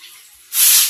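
Water from a tap rushes on loud and steady for washing, starting abruptly halfway through after a faint hiss, with no talking.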